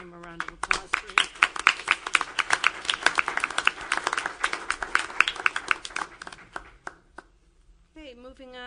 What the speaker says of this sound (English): I think we all owe him a round of applause for his.